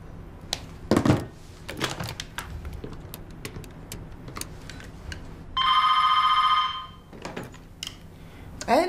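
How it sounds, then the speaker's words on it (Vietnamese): An electronic telephone ring sounds once as a loud, buzzing trill lasting over a second, set among quieter office clatter, thuds and tapping in an indoor drama scene. "Sao chị không nghe điện thoại?"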